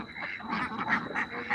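Ducks quacking repeatedly in a small group, a steady run of nasal calls fairly close by, on a Fourth of July night with fireworks going off in the area.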